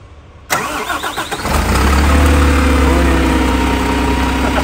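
The engine of a Volvo 8R bus chassis, started with a green button, cranks briefly and then catches into a steady, loud, low idling rumble that continues to the end.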